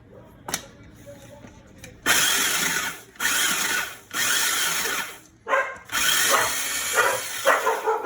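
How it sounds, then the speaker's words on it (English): Small electric food chopper chopping Ritz crackers, its motor whirring in several loud pulses of one to two seconds each, separated by short pauses and rattling bits in the bowl. "chop up these Ritz crackers, and then I'll do some nuts as well. I'll just put them in my trusty little machine here."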